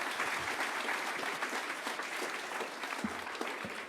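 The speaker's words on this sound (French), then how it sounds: "sous vos applaudissements" Audience applause fills a conference hall at a university mathematics talk, steady dense clapping throughout at moderate level with no speech over it.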